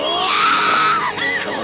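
An anime character lets out a long, loud, high-pitched scream that wavers and breaks near the end, heard alone and up close.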